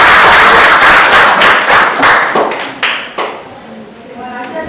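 Classroom applause for group 2, a loud burst of clapping from a group that thins into scattered individual claps and fades out.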